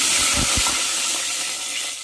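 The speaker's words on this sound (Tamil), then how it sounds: "இப்போ தண்ணியை சேர்த்துக்கலாம்." Water poured into a hot pan of sautéed spices for masala pongal sets off a loud, rushing hiss of steam and splashing. A couple of low thuds come early, and the hiss eases slightly as it goes on.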